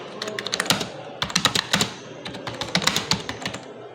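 Rapid typing on a computer keyboard while writing in Microsoft Word, close and clear: bursts of crisp key clicks with a short pause near the middle, no voices.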